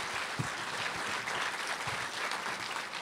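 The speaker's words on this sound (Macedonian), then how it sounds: "Уште еден аплауз." An audience applauds at a panel discussion on teachers, with dense, steady clapping that holds for the full stretch at an even, moderate level and no voices on top.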